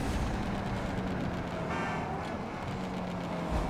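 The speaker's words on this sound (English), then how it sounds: "let's listen to the downshifts in this car" A car in GTA 5 Online downshifts with a raspy engine, the loud, rough exhaust roaring throughout and a brief rising rev near the middle, with no talking.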